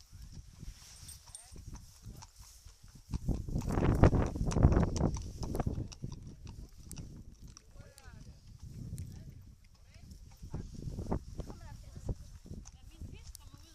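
Icelandic horses walk outdoors, their hooves clip-clopping in an uneven rhythm at moderate distance, with people talking over them throughout.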